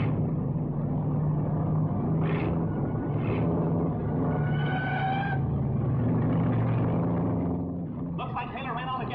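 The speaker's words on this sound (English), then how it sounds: "That Atlas car is certainly a marvel of the automobile industry, and Taylor's driving a brilliant race" A 1940s race car engine drones and roars during a race, a dense continuous rumble with rising revs and passing surges, while someone talks over it.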